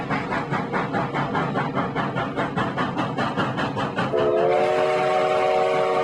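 Steam train on the Transcontinental Railroad chugging in a steady rhythmic beat, then a loud sustained whistle blast cuts in over the running train.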